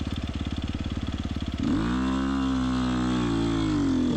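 Dirt motorcycle pulling away on a slippery harescramble track, its engine pulsing rapidly at first, then rising into a loud, sustained, close acceleration whine that holds and climbs.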